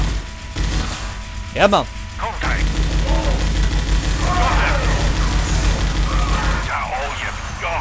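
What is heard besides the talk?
gunfire from a video game (Scourge Outbreak)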